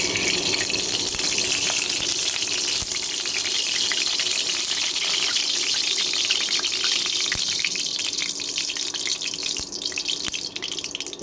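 Oil heating and sizzling in a hot kadai before dried fish with onion and garlic is fried, a steady close hiss with faint crackles running without pause.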